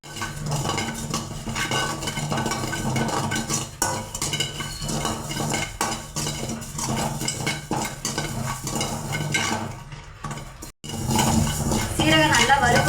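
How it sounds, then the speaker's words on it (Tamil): Roughly fifteen grams of cumin seeds dry-roast in a pan for biryani masala while a metal spoon scrapes and clinks against the pan in steady strokes, loud and close, over a soft crackle, with a brief pause near the end. "சீரகம் நல்லா வறுபட்டுருச்சுங்க"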